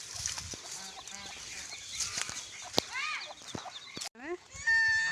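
Chickens and ducks in a backyard cluck and quack in scattered bursts, fairly close, with a few louder squawks and a sharp call near the end against a quiet rural background.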